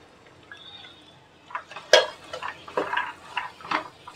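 Vegetables for Bhogi bhaji, with peanuts, field beans and jujube berries, stirred in masala in a pan, giving quiet, scattered clinks and scrapes of a spoon on metal, with one sharper knock near the middle.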